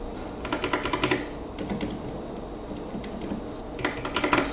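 A compact keyboard with a cute color scheme is typed on in short bursts of fairly soft, clicky keystrokes, with quiet pauses between the runs.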